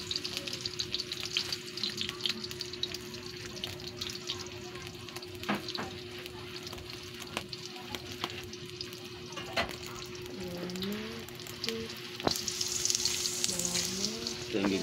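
Ginger, garlic and turmeric sizzle in a generous amount of oil in a pan, a low, soft, continuous frying crackle with occasional stirring clicks and faint background voices.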